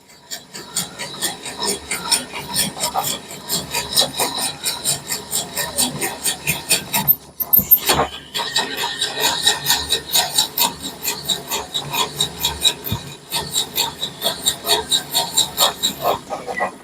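Wood being cut on a lathe turning slowly at about 150 to 200 RPM, a steady rhythmic scraping and rasping that pulses with each rotation, continuous and fairly close, with a brief knock partway through.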